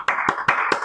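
Hands clapping four times in a steady, quick rhythm, each clap sharp and close, with nothing else around them.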